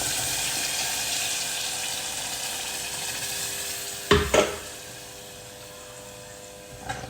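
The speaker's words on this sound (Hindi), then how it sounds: "अब इसी घी के अंदर मैं डाल रही हूँ ये सारी प्यूरी।" Tomato puree sizzles loudly in hot ghee left over from frying chicken, a dense continuous hiss broken by a couple of sharp clatters partway through, then settling back to a steady sizzle.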